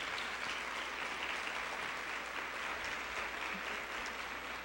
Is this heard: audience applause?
yes